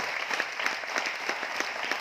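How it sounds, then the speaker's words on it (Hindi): An audience applauds loudly at a talk in Aurangabad, a dense, steady wash of many hands clapping with no voices over it. "ताली थोड़ी जोरदार वाली बजा लीजिए"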